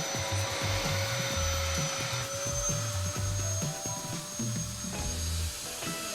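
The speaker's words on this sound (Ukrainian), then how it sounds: "Просто візьму пилосос і все приберу за хвилину." A vacuum cleaner cleans a room, a loud, steady motor whine running the whole time with bumping, scraping knocks as the nozzle moves across the floor.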